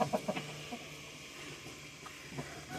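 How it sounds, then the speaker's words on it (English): Hens cluck close by in a quick burst of short calls, then settle into quieter, scattered clucking over a low background hum. "There's Mr. Rooster."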